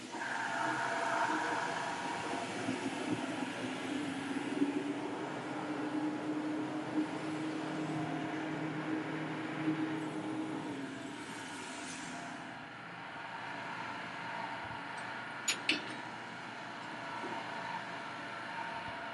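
An FGPCNC Edge48 CNC plasma cutter runs with its exhaust fan on, giving a steady loud roar and hiss throughout, with a few sharp crackling bursts late on.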